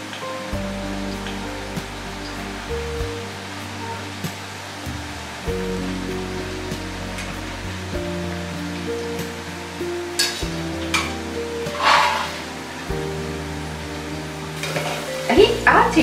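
Grated potato frying in hot oil, a loud continuous bubbling sizzle with a low humming drone beneath and a few bursts of stirring near the end.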